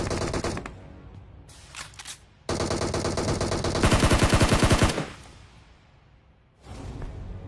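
Rapid bursts of automatic gunfire in a battle royale video game, loud and close, with sharp rattling volleys, a sustained heavy burst in the middle and brief gaps between shots.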